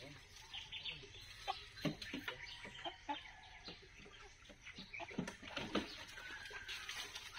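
Chickens clucking in short, scattered bursts at moderate distance, with farmyard background noise and occasional bird chirps throughout.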